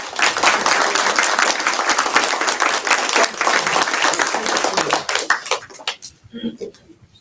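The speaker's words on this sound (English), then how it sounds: "can we have one more round of applause?" A crowd applauds loudly and steadily for several seconds, then the clapping thins out into a few scattered claps before fading.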